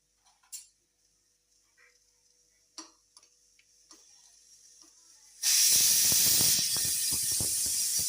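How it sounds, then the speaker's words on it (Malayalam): Asafoetida drops into hot sunflower oil for a beef pickle, and a loud, steady sizzling hiss bursts in suddenly after a quiet stretch of faint ticks and clicks, then holds up close to the end. "കായം മുപ്പിക്കാനുണ്ട്."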